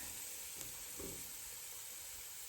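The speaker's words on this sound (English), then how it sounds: "You can hear it sizzle." A constant, fairly faint hissing sizzle of roasted food with caramelized bits runs throughout, steady and unbroken, with a soft bump partway through.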